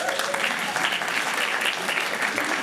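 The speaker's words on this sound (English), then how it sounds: "A round of applause for Ashlyn." A school board meeting crowd gives a dense, sustained round of applause for a fifth grader, loud and even throughout.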